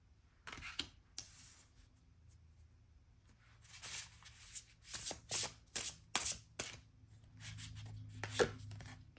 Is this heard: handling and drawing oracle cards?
yes